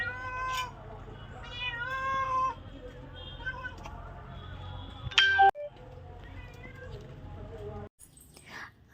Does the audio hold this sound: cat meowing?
yes